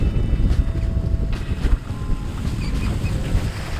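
Wind gusts buffet a sailboat under sail along the coast, a continuous rough rumble with surging bursts and water wash, close and fairly loud with no voices.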